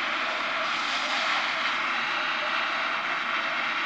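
A plane takes off in a mobile game, played through the speaker of a Realme X phone. A steady, full engine roar holds at a constant level throughout, with no talking.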